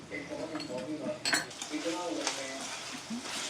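A utensil stirs chicken fry in a sizzling pan, scraping and clinking against the metal in close, repeated strokes over a steady frying hiss.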